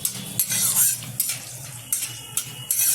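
A utensil scrapes and stirs spiced mutton with black pepper, cinnamon and cloves in a pan, with repeated close metallic scrapes and a soft sizzle between them.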